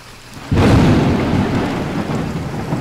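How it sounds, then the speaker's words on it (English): In the sailing survival game Escape The Pacific, a sudden loud thunderclap breaks over steady rain, the rumble fading while rainfall continues close and dense. "Here's the rain."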